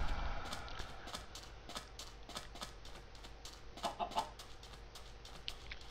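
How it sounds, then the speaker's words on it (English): Chickens cluck and squawk in a Minecraft game world, a run of short bird calls over a steady game background, with a brief cluster of louder clucks near the end. "I've been trying to breed the chickens over this side"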